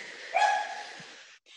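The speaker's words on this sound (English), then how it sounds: "I'm going to just let these dogs out" A dog gives a single short, fairly faint bark indoors during a Pilates class, with soft room noise around it.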